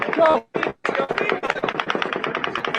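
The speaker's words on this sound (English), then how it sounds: "At 10:12 and 8 seconds, the 8th volley of automatic gunfire begins." Automatic gunfire erupts in rapid, continuous volleys, with sharp overlapping cracks following a couple of short bursts, close and loud amid the tension of a volley during a mass shooting.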